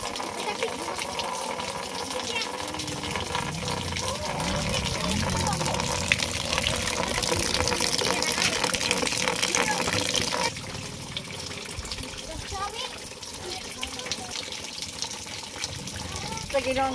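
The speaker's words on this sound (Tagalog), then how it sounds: "balik ulan na gyud kusog na gyud" Heavy rain pours onto a roof as a dense, steady rushing wash that softens a little partway through. Voices are faintly audible beneath it.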